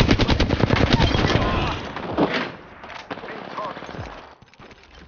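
Rapid automatic gunfire rattles in close bursts during an Apex Legends match on Xbox Series X, then thins to scattered shots and thuds as a voice talks over the action.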